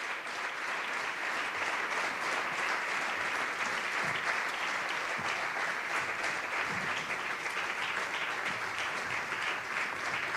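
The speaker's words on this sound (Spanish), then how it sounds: "Mantened el aplauso mientras llegan." Sustained applause fills a hall at a 2021 awards gala as winners make their way onto the stage, a dense, even clapping from a large crowd that holds steady throughout.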